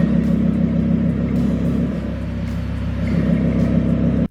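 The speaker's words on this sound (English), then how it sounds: "hear the difference in the tone of the exhaust when you put the valves on and off" Car exhaust with its exhaust valves switched open and closed, a steady loud engine rumble idling close by with slight shifts in tone, alone without talking.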